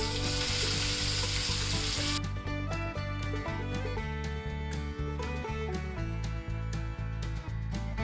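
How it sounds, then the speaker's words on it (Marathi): Onion sautéing in hot oil with cumin, mustard seeds and garlic for a kurdai vegetable dish: a loud sizzling hiss at first, then the frying continues beneath prominent music. "हा कांदा आहे ना चांगला गुलाबी होईपर्यंत परतून घ्या"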